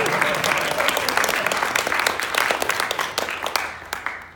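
An audience at a presentation bursts into sustained, dense applause that stays strong and then tapers near the end, with a few voices faintly mixed in.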